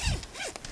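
Waterproof zipper on a sailboat dodger enclosure being pulled in quick strokes, a close, brief ripping zip heard alone.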